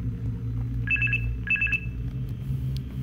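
A telephone rings in a horror video game, sounding two short trilling bursts separated by a pause over a low, rumbling background hum.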